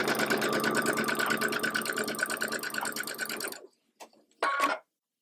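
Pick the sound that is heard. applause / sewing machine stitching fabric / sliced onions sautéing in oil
sewing machine stitching fabric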